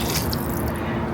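Water and chicken broth pour into a cooking pot in a kitchen, a continuous close, loud splashing rush with no talking.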